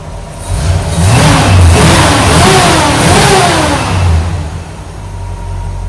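A 1970 GMC 2500 pickup engine running close and loud, a mid-pitched motor that swells and revs unevenly, settling toward an idle after a few seconds.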